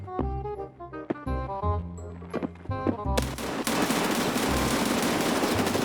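Gunfire in Escape from Tarkov: a few sharp single shots over background music, then a sustained loud burst of automatic fire filling the last few seconds.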